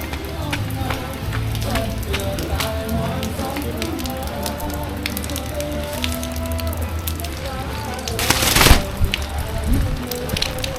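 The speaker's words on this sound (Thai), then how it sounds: "อย่ากกลัวฝนจ้ะ เรามาตามฝนกัน" Rain falls steadily on a surface during a trip to the village of E-Tong at Pilok, Thailand, a continuous patter across the whole stretch with tonal sounds mixed in and a brief louder burst late on.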